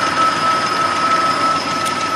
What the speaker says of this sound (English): the hydraulic lifter will start to rattle at high mileage like we're experiencing here